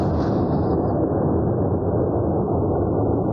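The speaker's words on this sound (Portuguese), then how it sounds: "Câmeras de segurança registraram o momento da explosão." An explosion at an explosives company near Curitiba, Paraná, picked up by a security camera: a loud, sustained roaring rumble that fills the recording from start to finish, with a brief higher hiss at the onset.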